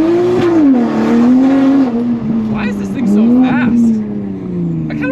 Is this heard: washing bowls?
no